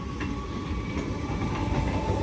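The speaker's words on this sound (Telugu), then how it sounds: "మన ట్రైన్ ఆ ట్రైన్ ప్యారల్ రన్ అయితే అవుతున్నాయి ఇప్పుడు" A Chennai to Visakhapatnam superfast express rolls along in a steady, moderately loud rumble with faint clickety-clack from the wheels and no voices.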